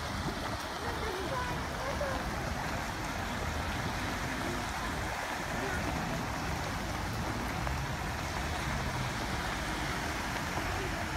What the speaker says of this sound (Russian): вот это дождик